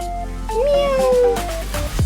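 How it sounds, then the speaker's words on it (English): A single drawn-out meow with a rising then gliding pitch, close and clear, over light background music. "Cat."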